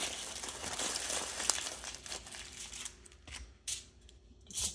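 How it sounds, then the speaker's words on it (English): Aluminium foil crinkles and crumples around a sandwich bun during a tuna melt, a busy rustling texture followed by a few sharper separate crinkles, close by with no talking. "you're gonna take some foil and you're gonna wrap it in foil"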